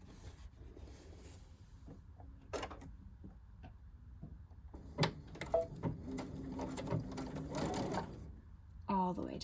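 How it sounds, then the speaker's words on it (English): A home sewing machine stitches a jacket undersleeve in short bursts of rapid mechanical chatter, with pauses, light handling clicks and fabric rustle, and a person speaking in between. "Now I'm going to sew the other side of this undersleeve."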